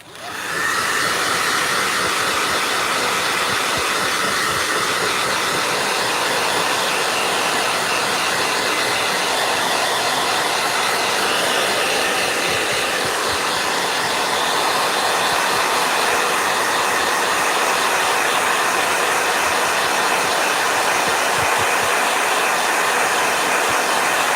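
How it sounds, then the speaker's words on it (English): A blow dryer runs continuously at full power, a loud, steady whooshing roar that starts abruptly and holds without a break. "Blow dryer."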